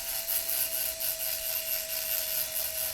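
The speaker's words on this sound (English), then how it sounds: "So next step is to scuff up the ends of the cells." Light, even scuffing on the ends of Tenpower 50XG lithium-ion battery cells, a quiet continuous rasping rub with a faint steady whine underneath.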